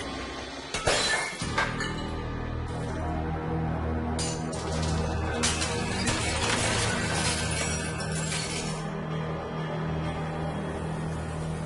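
Dishes and glasses smash and shatter in a kitchen, a loud burst of breaking glass followed by scattered clinks and crashes that carry on over a steady background hum, with no voices.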